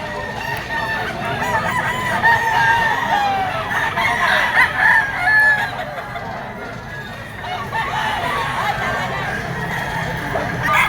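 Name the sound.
Gilmore Hatch gamecock crowing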